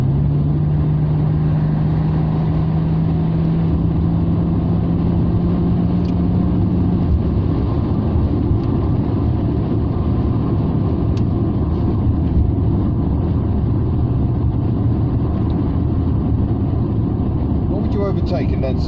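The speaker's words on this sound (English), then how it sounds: "the engine does certainly growl a lot more" A Citroen 2CV's small engine growls steadily while driving on the road, a continuous low drone with a faint rising whine early on, close and constant for the whole stretch.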